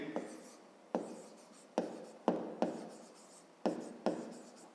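Pen strokes scratch across paper as numbers are handwritten for a fifth-grade math exercise, about eight short, crisp strokes close up and fairly quiet, each fading quickly.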